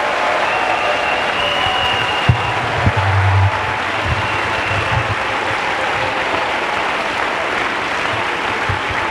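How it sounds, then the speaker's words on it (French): A church congregation applauds in a dense, steady wash of clapping that fills the whole stretch, with a few sharper claps and a brief low rumble near the middle. "Let's clap for Jesus Christ."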